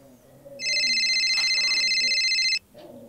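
A telephone gives a single sustained electronic ring lasting about two seconds, loud and clear above a quiet indoor background, then cuts off.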